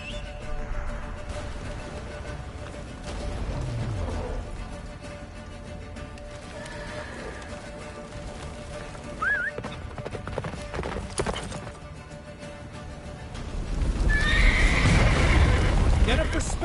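Geralt's horse Roach in The Witcher 3 galloping with steady clip-clop hooves, whinnying near the middle, with in-game voices speaking and a louder rush of hoofbeats and wind at the end.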